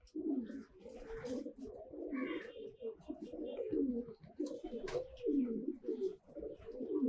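A fifteen-to-sixteen-month-old pigeon coos in repeated low, throaty phrases close by, with faint chirps and small noises around it.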